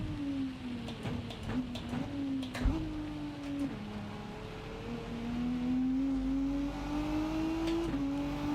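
A race car's engine in a racing video game, with a Hurricane car on the Red Bull Ring circuit, revs up and down through rapid repeated gear changes, each shift a quick dip and climb in pitch, moderately loud with no talk.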